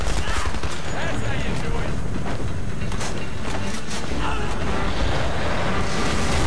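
Tank cannon blasts and heavy gunfire in the Homefront video game, loud and dense over a constant roaring battle din, with a voice talking over it.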